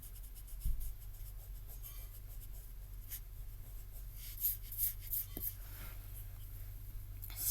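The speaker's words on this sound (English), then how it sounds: "I'm going to erase the little squiggly line because I don't like how that would look anymore" A pencil line being rubbed out on paper with an eraser during a horse drawing: faint, soft scratchy rubbing in quiet bursts, close by, with a few light taps and no talking.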